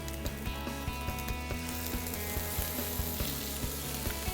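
Paneer sautéing with capsicum and green pepper in a pan, a steady close sizzle with rhythmic scraping strokes of a spatula against the pan throughout.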